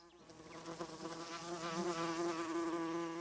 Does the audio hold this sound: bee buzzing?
yes